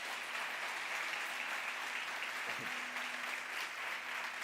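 Church congregation applauding during an evening service, a dense, steady wash of clapping that fills the whole moment at even loudness, with no voices standing out over it.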